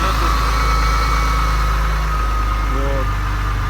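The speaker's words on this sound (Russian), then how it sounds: "Сейчас мотор только прогреется." A cold BMW E34 with the M50B20 inline-six engine idles close by, a loud, steady low rumble with faint ticking throughout and a brief higher whine near the end.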